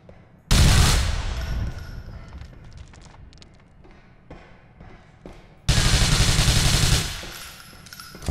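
Two loud bursts of rapid submachine gun fire in GTA 4, the first about a second long and the second lasting over a second, separated by quieter game sounds and scattered thuds.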